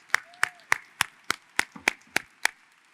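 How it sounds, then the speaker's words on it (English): A single person clapping at an even, steady rhythm, about nine sharp claps, close and fairly quiet, with a faint whistle-like tone briefly in the background, during a student union welcome day introducing the executive team. "Please take a moment to give them a round of applause"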